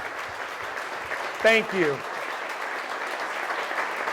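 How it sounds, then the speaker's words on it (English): Audience applause for military veterans at a political freedom event, a steady crowd wash with someone briefly speaking over it. "Let's give them a huge round of applause."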